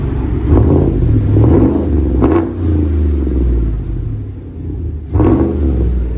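A 2017 GMC Sierra with a 5.3L V8 and a Flowmaster Flow FX muffler revs hard three times, each loud, deep exhaust blip rising over a steady, rumbling idle.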